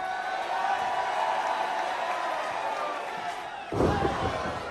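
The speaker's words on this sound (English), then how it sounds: "listen to this crowd" A wrestling arena crowd roars and cheers steadily at a tag-in during a tag team match, the noise swelling briefly near the end.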